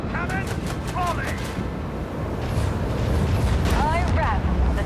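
Macro cannon volley from a warship in Warhammer 40000: Rogue Trader, a rumbling sustained barrage of booming fire that swells in the second half, with game voices and music-like tones over it.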